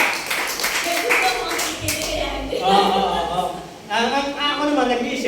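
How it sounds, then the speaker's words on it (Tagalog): A church congregation claps hands, with the applause mixed under loud speech from a preacher throughout. "Palakpakan mo natin ang Panginoon."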